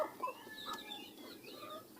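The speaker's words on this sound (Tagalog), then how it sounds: "Papakain muna ng kanyang mga alagang native na manok." Native chickens being fed cluck softly nearby, a few short, quiet calls overlapping in the background with no talking.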